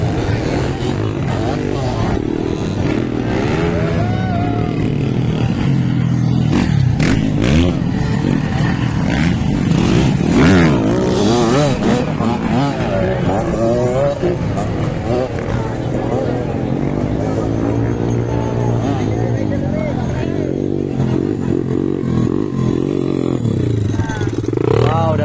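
A small motorcycle races in the ladies' category final, its engine whining and revving through shifting pitches beneath loud, continuous commentary and crowd chatter.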